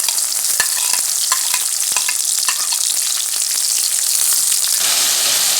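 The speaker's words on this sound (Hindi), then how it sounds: "प्याज और टमाटर ब्राउन हो रहे हैं।" Onions and tomatoes fry in a pan with a steady close sizzle, broken by the scrape and clack of a spoon stirring, and no one speaks.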